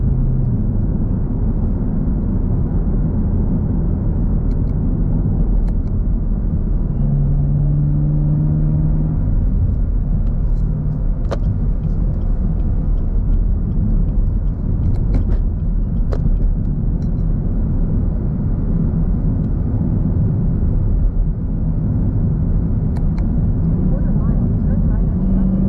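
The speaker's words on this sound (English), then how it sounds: "You can hear the car a lot more when putting it into sport or track mode" A 2022 Chevrolet Camaro ZL1 drives in sport mode with its exhaust valve open, giving a steady, loud low-pitched engine and exhaust rumble that runs continuously from start to finish, with no voices on top.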